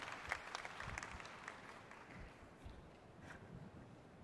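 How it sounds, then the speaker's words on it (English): Applause from the audience at the Asian Financial Forum 2023 for the panelists: a steady, fairly faint wash of many hands clapping in a large hall, sustained throughout. "let's give them a round of applause to our panelists"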